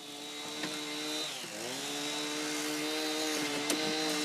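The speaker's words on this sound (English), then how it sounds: "the other guy's down there sawing it" Chainsaw cutting a tree being felled beside a river, its engine holding a steady drone and dipping briefly in pitch as the load shifts, heard from some distance and fairly faint with no talk.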